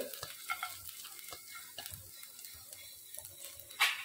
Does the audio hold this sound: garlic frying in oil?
yes